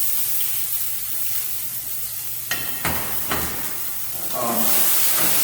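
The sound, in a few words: peppers and onions sizzling in oil in a pan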